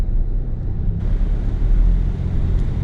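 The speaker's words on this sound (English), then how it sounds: "So now we are driving." A 2020 Honda CR-V drives along, its steady low road rumble and engine noise filling the cabin continuously without a break, with no talking over it.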